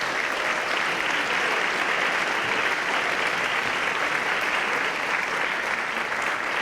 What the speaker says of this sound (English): if you can join me one more time in a round of applause for the volunteers that are behind me